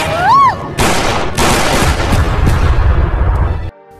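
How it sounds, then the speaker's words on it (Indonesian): Police gunfire in a film scene: loud, heavy volleys of shots and booming bursts after a short whistling sound, continuing densely before cutting off abruptly. "pasukan polisi langsung menghujani Tony dengan tembakan"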